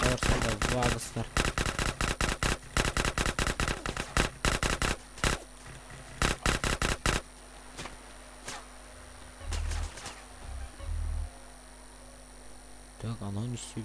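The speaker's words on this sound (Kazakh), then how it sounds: "Атып атыр, тимей тұр." Rapid automatic gunfire in the video game GTA San Andreas during a gang fight, loud dense bursts of shots for several seconds, then sparser single shots and a low hum, with a voice talking over it.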